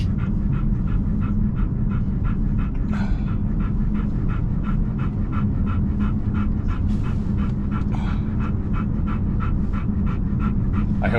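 A dog pants steadily inside a car, close and loud, with fast rhythmic breaths over a constant road and engine rumble, with no talking.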